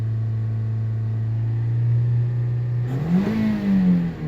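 A 2009 Toyota Corolla engine idling with a steady low hum, then revved once near the end so the pitch climbs and falls back, running slightly rich.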